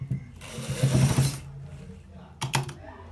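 A sewing machine stitches a designer shirt to the end of a seam in a short run of motor whir, followed by a pause and a couple of brief mechanical clicks, with faint voice sounds around it.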